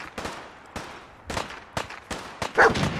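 In the video game Fallout 4, a dog barks in a run of sharp, loud bursts, roughly five or six spaced across a few seconds, mixed with gunfire-like cracks.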